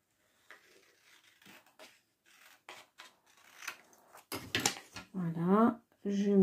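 Scissors snip paper for a handmade mini album in a series of small, close, crisp cuts, followed by louder rustling and handling of the paper while someone speaks French.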